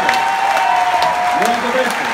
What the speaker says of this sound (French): Un grand applaudissement aux enfants et aux enfants de cette spécialité